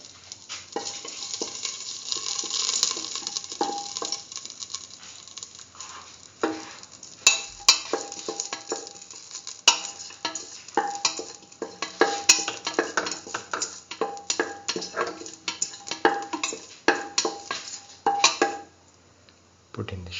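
Nigella seeds and salt frying in a pan, a steady sizzle under repeated scraping and clinking of a spoon stirring against the metal, close and continuous.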